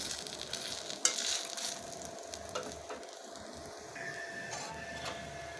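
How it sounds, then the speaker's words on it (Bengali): Banana flower fritters fry quietly in oil with a soft, continuous sizzle, broken by a few light scraping and clicking sounds from stirring. "আবারও দিয়ে দিয়েছি একইভাবে ভেজে নেব"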